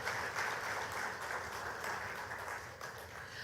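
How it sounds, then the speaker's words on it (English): Applause from a conference audience on the final day of a cultural and creative industries conference in Grenada, a steady dense patter of many hands held at a fairly soft, even level for the whole stretch, with no voices. "Let's give them a round of applause."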